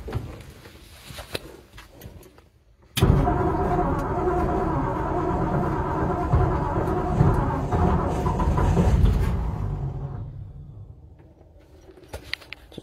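1963 Ford F-100 truck engine started on choke fires abruptly and runs loud and rough for several seconds, then fades down to quieter background with faint clicks.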